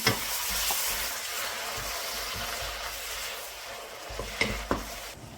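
A hot pan hisses and sizzles steadily as ground coconut paste mixed with water goes in, followed by a few soft clinks of stirring near the end.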